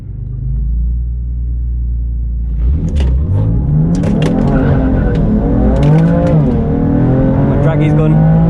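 A Mosselman hybrid-turbo BMW F80 M3 launches at full throttle, its engine climbing from a low rumble into a loud rising roar through several gear changes, with brief tyre chirps near the start.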